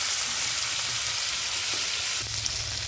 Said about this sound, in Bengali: এখন আমরা ভেজে নেব।